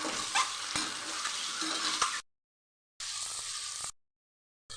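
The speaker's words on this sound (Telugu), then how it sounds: "ఎగ్స్ ఎగ్స్ మంచిగా బ్రౌన్ కలర్ వరకు ఫ్రై చేసుకోవాలి" Eggs frying in hot oil with salt, turmeric and chili, a close, dense sizzle with spatula stirring clicks, cut off twice by brief silent gaps.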